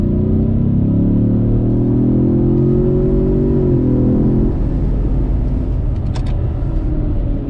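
A 4-cylinder sports car in sport mode at full throttle, its engine droning loudly and climbing steadily in pitch for several seconds before easing off into a broad rumbling roar of road and engine noise.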